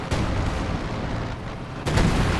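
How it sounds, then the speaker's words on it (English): Bombs exploding during a Company of Heroes 2 online match between Soviet and Wehrmacht forces, with dense rumbling blasts and a fresh loud burst near the end, all over continuous battle noise. "He blew up his own thing with the bombs"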